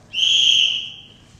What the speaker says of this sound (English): you may start after the whistle